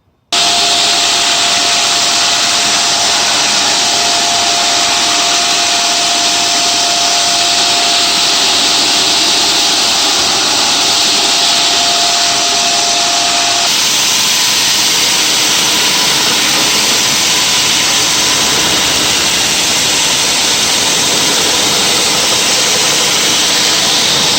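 A loud, continuous machine whine and roar of a WerkMaster RASP deck refinishing machine runs the whole time, shifting pitch slightly midway.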